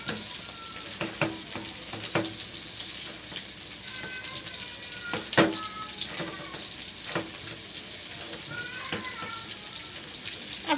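Sidol, a fermented fish, being mashed with water in a bowl, with wet squelching and splashing over a steady watery hiss, punctuated by several sharp knocks and scrapes.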